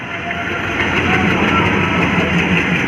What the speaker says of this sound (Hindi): इसलिए आपको लोकोमोटिव की आवाज़ तो आती रहेगी।